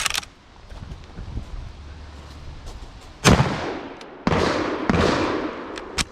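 A scoped rifle fires a few sharp, loud rounds, with the shots spaced a second or so apart and each followed by a short ringing tail over quiet background.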